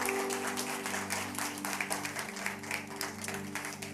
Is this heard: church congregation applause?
yes